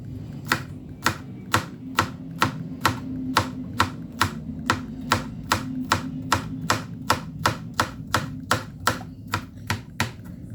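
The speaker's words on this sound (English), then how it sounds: "I have a next one that I'm cutting it like round like this" A knife chops okra into rounds on a cutting board, sharp evenly spaced knocks repeating steadily about twice a second, close and distinct with no talking.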